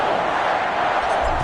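A stadium crowd in an EA Sports NFL game before a Washington Football Team and Green Bay Packers matchup: a dense, steady roar of many voices, loud and continuous, heard briefly.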